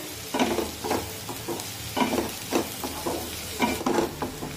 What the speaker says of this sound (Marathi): आता या मिरच्या सुद्धा कांद्यासोबत परतून घेऊया।